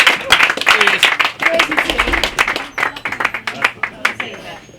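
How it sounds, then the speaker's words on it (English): An audience at a poetry open-mic night claps loudly and unevenly, with sharp close hand claps and whoops of cheering voices carrying through the whole stretch before the applause thins out. "Round of applause for Jamey, please."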